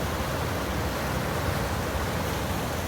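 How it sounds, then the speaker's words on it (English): Rushing creek water at Hat Creek, forced between lava rocks in a deep, churning pool, makes a loud, steady, broadband roar with no break and no speech. "so much water shoved in between these lava rocks"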